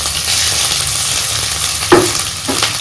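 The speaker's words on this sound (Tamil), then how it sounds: "எண்ணெய் சேர்த்து வதக்கி போடலாம்." Oil sizzles steadily in a pan as dried red chillies and garlic fry for a mushroom kulambu, a loud continuous hiss with a couple of brief stirring scrapes near the end.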